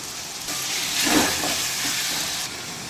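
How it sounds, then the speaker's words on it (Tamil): Tomatoes sauté with salt in a pan for a mutton gravy, giving a steady, close hiss of frying that swells briefly midway and then settles. "தக்காளி நல்லா வதங்கி வரட்டும்"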